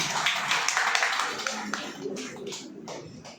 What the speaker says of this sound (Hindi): जोरदार तालियां इस छोटे से बच्चे के लिए।